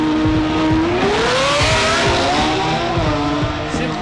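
A 700-horsepower BMW M4 Competition launches in a drag race start beside another car, its engine note climbing steadily through the revs with loud, close tyre and exhaust noise.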